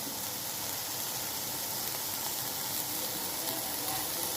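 Chicken frying in hot masala in a pan, a dense, steady sizzle with crackling and spatter that stays even and close throughout.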